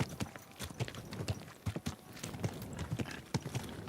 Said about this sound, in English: when y'all hear the horse coming, you move out of the way